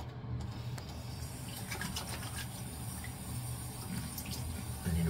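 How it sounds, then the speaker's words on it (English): Tap water runs steadily into a sink for rinsing during a wet shave with a double-edge razor, a faint, even splashing hiss that continues throughout. "I need to rinse in cold water."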